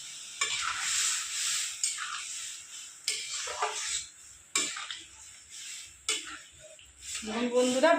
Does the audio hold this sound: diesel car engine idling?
no